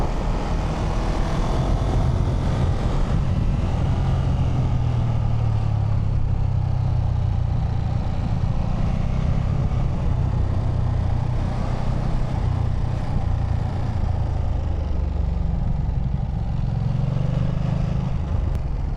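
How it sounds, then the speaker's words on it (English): A 2025 Ducati Monster 937 motorcycle engine held steady at speed in third gear, a continuous loud droning roar with wind rush that barely changes in pitch or level throughout, heard from the rider's position with no talk. "You open that throttle and just let that engine sing."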